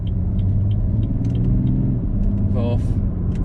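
A BMW 335d xDrive M Sport four-door rated at 308 bhp pulls in third gear with paddle shifting. Its engine gives a steady, close low rumble, with a brief higher mechanical whine near the end.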